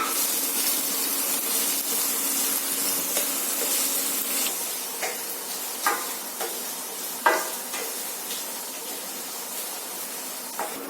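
Onions and green chillies sautéing in a pan, a steady close hiss and sizzle with occasional scraping stirs and brief clatters of a utensil, continuing for several seconds without talk.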